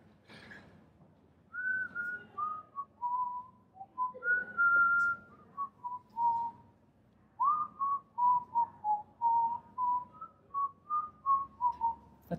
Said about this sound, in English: Do you know how to whistle that?